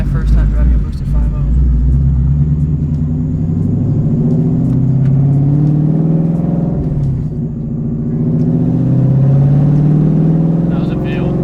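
A boosted 5.0 Mustang engine rumbles and revs while driving, a loud deep drone that swells and eases over the whole stretch, with voices talking over it.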